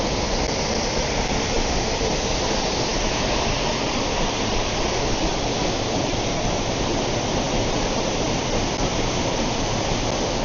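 River water flows and splashes, a loud unbroken rushing roar close to the microphone like a small waterfall, steady throughout with no voices.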